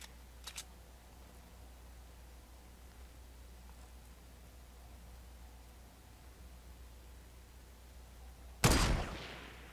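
Single sharp sniper rifle gunshot in Fortnite, loud and close, bursting out near the end of a long stretch of quiet hiss, with a faint click early on.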